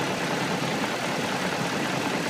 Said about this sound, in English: here's what it sounds like when the engine is running